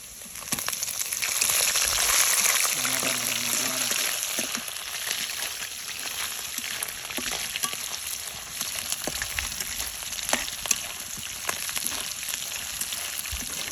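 Onions and shrimp fry in a pan, giving a loud, steady sizzling hiss with crackles and a few stirring clatters throughout, and no one speaks.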